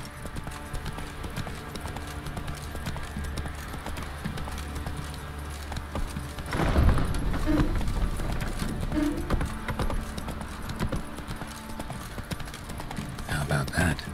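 Roach the horse in The Witcher 3 galloping, a steady rapid clatter of hooves throughout with a soft whinny midway, under game ambience and speech.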